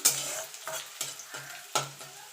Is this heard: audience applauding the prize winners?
no